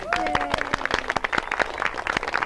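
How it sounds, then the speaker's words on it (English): A small garden-talk audience gives applause for Brian Kimball of the Ruth Bancroft Garden, with distinct individual claps in a loose, quick rhythm. A brief voice sounds at the start, then clapping carries on alone at moderate loudness. "Yes, applause for Brian Kimball."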